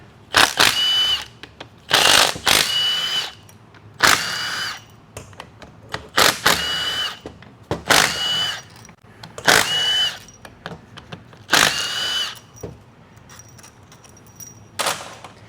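A power tool drives bolts out of a 4L65E transmission during teardown, with about seven loud whirring bursts of a second or so each, separated by short pauses and faint handling clatter.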